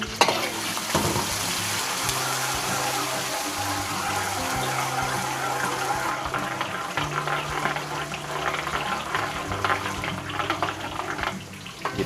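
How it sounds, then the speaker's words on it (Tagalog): Garlic sautéing in hot cooking oil for pork binagoongan, with steady close sizzling and frying crackle, stirring scrapes, and a utensil clink near the start. "Lagay po tayo mantika at tayo maggigisa"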